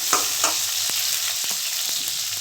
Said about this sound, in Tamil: தக்காளியும் போட்டுக்கலாம். சும்மா லைட்டாக வதக்கினா போதும்.